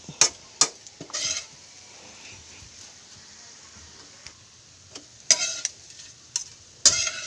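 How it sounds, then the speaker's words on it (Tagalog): Dried anchovies (dilis) frying in a little oil in a pan, stirred with a utensil: scattered sharp scrapes and clinks in bursts, with long quiet gaps between them and only a faint sizzle underneath. "Haluin po ng haluin para hindi masunog."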